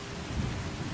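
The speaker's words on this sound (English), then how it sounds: "Interior rain, interior thunder?" Indoor thunder and rain ambience from the video game Skyrim, a steady low rumble with a swell of thunder near the middle over continuous rain hiss, heard alone.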